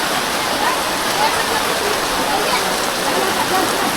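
Heavy rain pours steadily at the foot of the Mahalakshmi temple in Khanivade, Virar, a dense, continuous hiss close by with no breaks.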